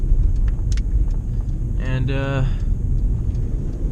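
A Nissan Sentra SE-R cruises with a steady low engine and road rumble from inside the cabin, while someone briefly speaks over it.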